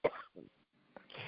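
Someone coughs a few times in short, close bursts with brief gaps between them, recorded fairly quietly.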